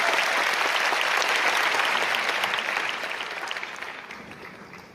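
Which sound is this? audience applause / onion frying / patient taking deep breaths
audience applause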